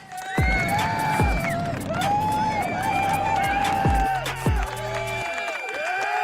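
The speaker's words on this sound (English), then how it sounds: "I appreciate the applause" A lively crowd cheers and whoops with scattered clapping, loud and continuous, mixed with shouting voices and some tonal sounds.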